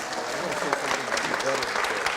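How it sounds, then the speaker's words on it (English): Applause in a Fresno City Council chamber: a brief, steady patter of clapping from the audience, close and fairly even throughout. "Now let's clap for Pinedale."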